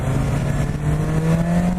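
BMW S1000 XR motorcycle with an Akrapovic exhaust, a close engine droning steadily and rising slightly in pitch, loud and alone for a short moment.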